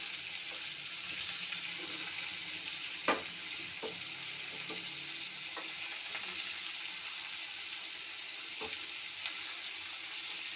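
Chopped green chillies and onions sautéing in a pan for drumstick-leaf adai, a quiet continuous sizzle broken by occasional light spoon knocks, with no voices.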